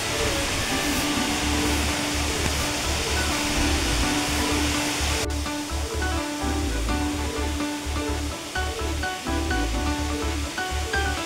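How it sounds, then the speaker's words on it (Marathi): A hidden waterfall roars close by with a dense, unbroken rush of falling water that stays loud and even throughout. "मित्रांनो, आता आम्ही हिडन धबधब्यावर पोहोचलेला, तुम्ही पण बघू शकता."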